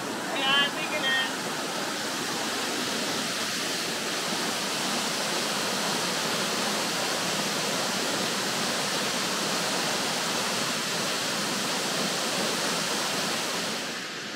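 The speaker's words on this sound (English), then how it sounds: "You can come down and play by the waterfall." A waterfall and bubbling stream rush steadily and loudly at close range, a dense unbroken roar of falling water with a faint chirp at the very start.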